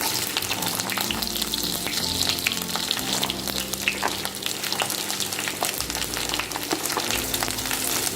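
Garlic cloves fry in hot oil for a dried fish bhuna, a continuous close sizzle with crackling pops and occasional stirring scrapes.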